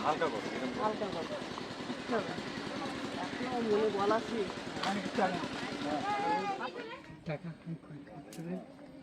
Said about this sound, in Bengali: ইঞ্জিন চালিত বোর্ডে আজকের ঘুরে খুব ভালো লাগলো